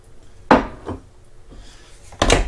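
The lid of a 7-inch waffle maker thuds shut after waffle batter is poured in, with a couple of solid knocks and a softer clatter between them, close by and with no talk.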